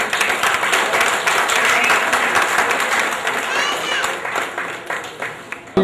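Crowd at a Pakistan Independence Day gathering in a Jubail labour camp claps loudly for the mess supervisor, a dense burst of applause that holds steady for several seconds.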